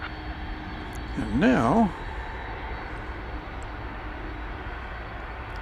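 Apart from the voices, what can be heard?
UPS Boeing 767 jet taking off from runway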